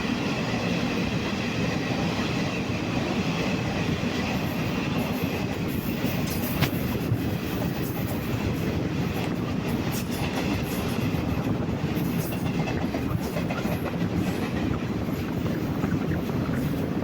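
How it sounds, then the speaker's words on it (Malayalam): Kozhikode–Thiruvananthapuram Jan Shatabdi express train passing at speed, a loud steady rumble with rhythmic wheel clatter and occasional squeals, sustained close by and without voices. "കോഴിക്കോട് ജനശതാബ്ദി പറന്നു പോകുന്നു"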